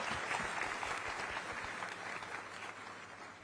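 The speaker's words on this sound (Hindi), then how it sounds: "तो कल लिए ताली बजाओ पहले।" A large audience at a public speech applauds in a continuous dense clatter of hands, holding steady and then easing off slightly toward the end.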